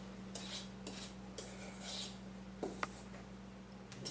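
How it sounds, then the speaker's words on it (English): A spoon folds egg whites into tres leches cake batter in a bowl, giving soft scraping strokes and a few light clinks against the dish over a quiet steady hum. "You just take your spoon and fold it in."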